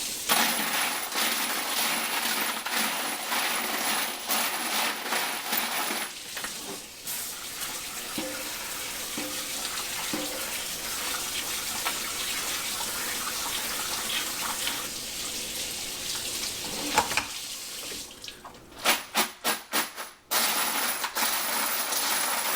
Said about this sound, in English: We're just really trying to get the suds and soap off of the brass.